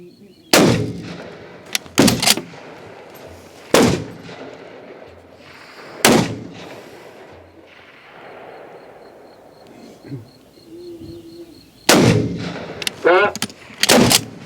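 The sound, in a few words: Swiss K31 rifle shots fired at 300 m range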